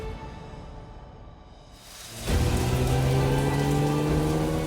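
Rain in Brittany starts lightly, then turns into a heavy, steady downpour drumming on surfaces, loud and continuous with no voices.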